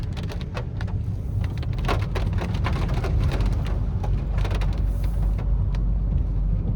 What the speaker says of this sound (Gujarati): આ જો વરસાદ કેવો પડે છે, જોરદાર પડે છે ને વરસાદ